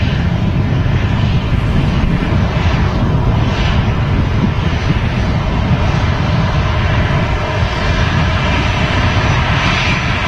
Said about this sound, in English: This is a 17-year-old A320 from Dublin. It's an Aer Lingus in the classic colours.